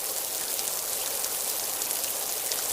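Steady, dense rain from the Sakura School Simulator video game, a continuous hiss of drops with an even level and no talking.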